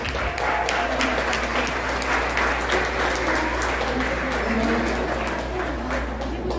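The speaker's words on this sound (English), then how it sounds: "I know that you guys all need to give yourselves a round of applause." Sustained audience applause at a festival appreciation dinner fills the room, steady broadband clapping without a break for several seconds, with some background voices mixed in.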